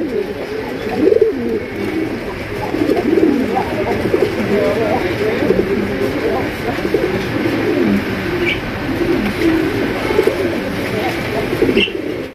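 A male Bombay pigeon coos repeatedly in low, rolling phrases among caged pigeons for sale, with other birds calling and faint voices murmuring in the busy background throughout.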